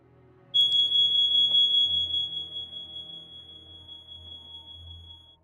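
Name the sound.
alarm going off in the background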